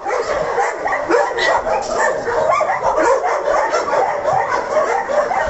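Several dogs at an animal shelter in winter bark, yip and whimper together in a continuous, busy chorus at close to moderate distance, with no pauses.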